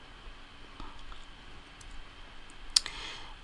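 A few soft computer mouse clicks in quiet, sparse and close, one sharper click standing out near the end, while working in Cricut design software.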